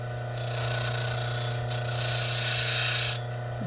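A grinding wheel shapes the back of a broken agate cabochon, making a steady motor hum under a loud, hissing grind in two long passes with a brief break between them. Nobody talks.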